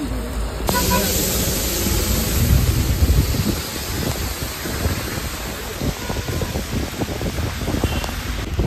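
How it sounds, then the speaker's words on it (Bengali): Steady, dense hiss of rain falling in Darjeeling, loud and continuous throughout, with faint voices underneath. "এই বৃষ্টি থেমে যাও তাড়াতাড়ি।"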